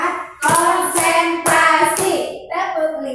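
Schoolchildren in an Indonesian classroom perform a counted rhythmic clapping routine led by their teacher; sharp bursts of group claps in clear beats, close and loud, with short gaps between sets.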